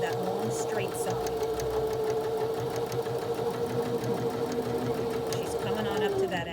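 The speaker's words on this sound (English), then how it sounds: "she's now going to sew that long straight side" A sewing machine stitches a long straight side of fabric for a mask, running as a steady rapid close hum for several seconds before slowing at the end.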